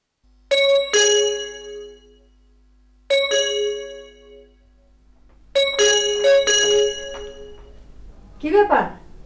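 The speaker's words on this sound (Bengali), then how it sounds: "কলিং বেল বাজে, তুই দরজা খুলছিস না কেন?" A household electronic doorbell chimes three times, each ring a bright multi-tone jingle with short gaps between, followed by a brief voice at the end.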